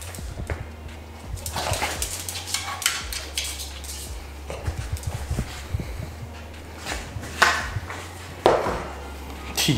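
A dog barks excitedly at feeding time in a home kitchen, with several sharp bursts rising over the clatter of dishes, pots and cutlery.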